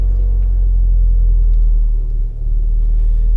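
A Volkswagen Golf R engine, started by push button, settles into a deep, loud idle rumble close by, steady with a brief dip partway through.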